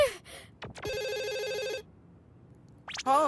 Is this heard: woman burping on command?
no